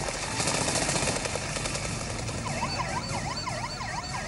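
An ambulance siren wails in a rising and falling pattern over heavy traffic and engine noise, repeating steadily at a moderate distance after a terrorist attack at a university.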